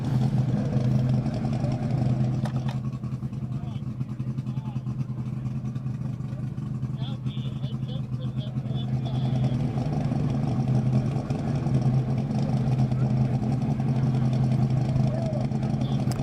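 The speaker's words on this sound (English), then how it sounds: "That is the noise from Speed Demon that you hear right now." The Speed Demon land speed race car idles on the salt flats during Speedweek, a steady low engine drone running throughout, with a person talking over it and some faint higher clinking in the middle.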